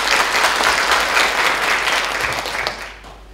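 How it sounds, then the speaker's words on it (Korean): An audience at a Cancer Prevention Day ceremony in Hwasun bursts into sustained clapping to welcome a provincial health and welfare director to the stage. The dense applause holds steady, then thins and fades toward the end, with no voices over it. "여러분 박수로 환영해 주십시오."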